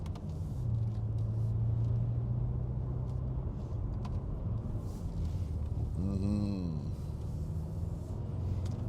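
A BMW F10 M5 Competition saloon drives on the road with a steady engine rumble and road noise. One pitch sweep rises briefly midway, and there is no speech.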